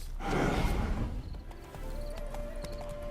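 Horse hooves clip-clopping in The Witcher 3 video game, with a loud breathy snort or whinny up front, then steady hoofbeats under a thin musical tone.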